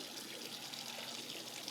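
Ice cold water pours steadily over thin spring onions held in a sieve, a continuous, even rush and trickle with no pauses and no talking.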